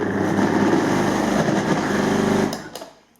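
A Philips vacuum cleaner with a faulty, failing motor hums and drones loudly and steadily, then is switched off and winds down, leaving a few faint clicks.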